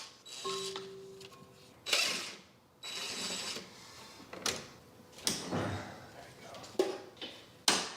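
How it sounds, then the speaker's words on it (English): AC hose lines being unbolted from a Nissan: scattered close metallic clicks, clanks and scrapes of tools and fittings, separated by short pauses and some low humming. "I'm gonna go ahead and unbolt these"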